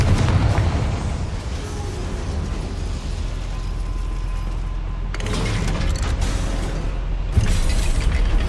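Confringo fire spell explosion in the video game Hogwarts Legacy, a loud sustained blast with a deep rumble and crackling debris, followed by further bursts and a sharp impact near the end.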